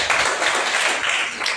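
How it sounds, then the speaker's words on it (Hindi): A church congregation claps together in a brief, dense burst of loud, continuous applause. "ताली बजा दीजिए"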